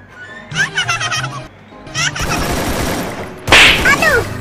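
Shotgun fire in the mobile shooter Free Fire: sharp, crackling blasts crowd the second half, with a heavy burst near the end, set against chirpy game effects and short melodic tones.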